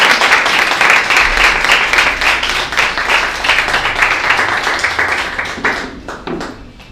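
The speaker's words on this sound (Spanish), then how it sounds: "regale un aplauso al Señor en esta mañana" A church congregation applauds during a morning service, steady dense clapping that fills the room for several seconds before tapering into a few scattered claps near the end.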